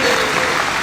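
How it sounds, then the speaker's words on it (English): Audience applause at a global freight summit, a dense, steady wash of clapping filling the whole moment at close, loud level. "This is where you clap."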